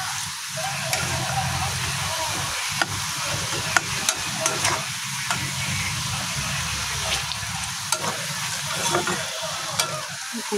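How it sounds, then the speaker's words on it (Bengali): Onions frying in a pan before tomatoes are added for a spicy tomato chutney, a steady close sizzle with scattered stirring scrapes running throughout, no talk over it. "আর একটু ভাজার পরে আমি টমেটোগুলোকে দিয়ে দিব।"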